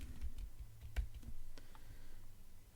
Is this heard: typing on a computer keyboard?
yes